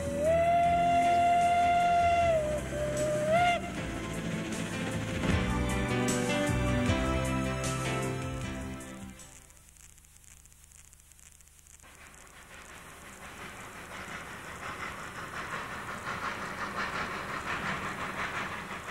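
A steam train whistle sounds loudly at first, then the locomotive of the Achenseebahn chuffs and rumbles along the track, fading briefly before hissing and clattering return.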